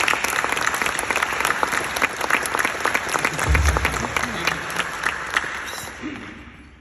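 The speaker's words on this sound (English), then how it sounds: "Big round of applause for our new lieutenant." Audience applause at a university Air Force ROTC commissioning ceremony for new lieutenants, a steady wash of many hands clapping that holds level, swells briefly near the middle and tapers off at the end.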